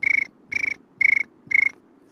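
Four evenly spaced cricket chirps, each a short rapid trill, repeating at a steady pace, fairly close and clear with no voices.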